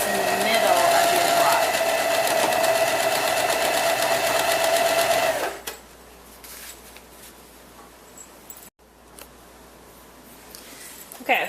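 A sewing machine runs in a steady, close whir as it stitches quilt pinwheel block pieces, then stops abruptly, leaving quiet room noise with faint handling sounds.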